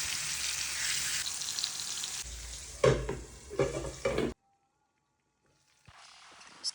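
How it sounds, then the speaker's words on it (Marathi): Fish pieces drop into hot oil with crushed garlic and ginger, a loud broadband sizzle with stirring clatter that runs several seconds, then cuts to near silence before a fainter sizzle returns at the end. "आता फिशच्या बोट्या आहेत त्या त्याच्यामध्ये टाकायच्या आहेत फ्राय करण्यासाठी"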